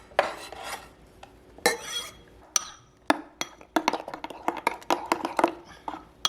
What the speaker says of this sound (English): Grind the peppers, black pepper